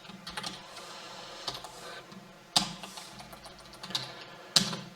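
Keys clatter on a computer keyboard while HTML code is entered, soft irregular taps with a few louder isolated strikes near the middle and end. Close, quiet, with no talking.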